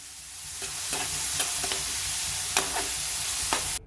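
Green chillies and onion pieces frying in a pan for a chicken curry, with a steady close sizzle broken by several sharp scrapes and clinks of a stirring spoon.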